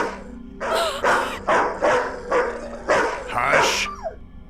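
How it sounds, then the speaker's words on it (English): A dog barks at a stranger in a series of sharp, rhythmic barks, about seven in quick succession, loud and close, with a voice speaking at the end. "He always barks at strangers."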